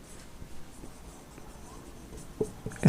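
Pen writing on paper during a maths lesson, soft scratchy strokes with small taps, quiet and close, growing a little louder at the end.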